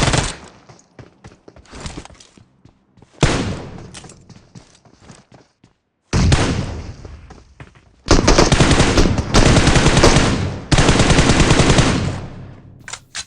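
M4 rifle fire in the video game PUBG, loud rapid automatic bursts in several separate volleys, the later ones long and sustained, with short pauses and faint footsteps between.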